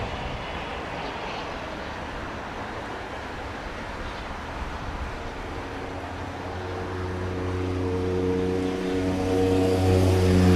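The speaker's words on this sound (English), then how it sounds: "It sounds like a plane, but that's a motorcycle." A motorcycle passing at a Grand Cayman plane-spotting spot, its engine drone building steadily from a distant rumble into a loud, sustained roar that could pass for an aircraft.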